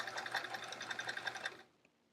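A close sewing machine runs one quick burst, about a second and a half, to back tack the top of a pencil pocket on a travel art folio, then stops with a faint click.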